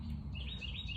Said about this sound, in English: And that bird is so loud.